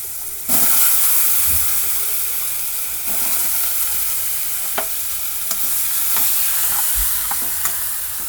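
Eggs hit hot oil seasoned with turmeric, chili powder, coriander powder and salt for a potato egg curry, starting a loud, steady sizzle with occasional utensil clinks and stirring scrapes close by.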